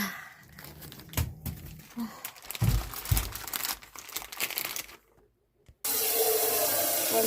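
A kitchen tap runs into a sink, filling it with water to soak cabbage; crinkling and handling noises come first, then a short pause before a steady, loud gush of running water fills the last second and a half.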